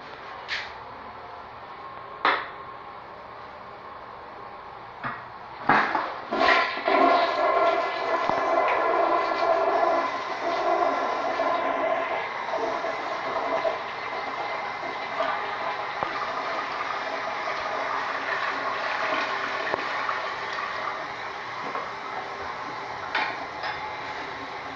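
A Gerber toilet in a sub shop's men's restroom flushes with a sharp clunk and loud rushing surge, then the tank refills with a long steady hiss and trickle, with a few clicks and thumps nearby.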